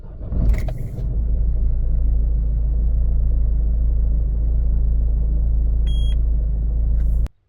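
A 2007 Peugeot Partner 1.6 HDi starts and settles into a steady diesel idle rumble, with a short, clear electronic warning bleep from the engine management light sounding near the end before the engine cuts off.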